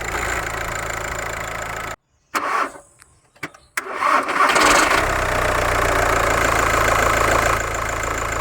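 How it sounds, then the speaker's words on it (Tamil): A worn second-hand car engine cranking and starting roughly, loud steady running that cuts out, then stuttering cranking attempts before it catches and settles into a loud rough idle. "ரொம்ப ரம்பலாக ஸ்டார்ட் ஆகுது."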